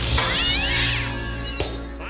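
A cat meows loudly and close by, one long drawn-out mew followed by a short sharp sound and a softer trailing cry, over a low steady hum.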